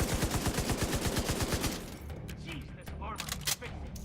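Guns in The Division 2 fire a quick, regular string of loud shots for under two seconds, then give way to quieter scattered thumps and clatter.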